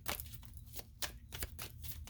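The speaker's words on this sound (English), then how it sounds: "We'll shuffle a few times here, see if there's any others going to come out here for you today." Tarot cards are shuffled by hand in a quiet room, giving soft, repeated riffling bursts at a steady, uneven rhythm.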